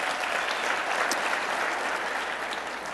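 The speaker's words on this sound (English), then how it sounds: "clap if the answer is yes" A room full of audience members claps in answer to a question, a steady, dense wash of applause that stays even and fairly close for about three seconds with no talking.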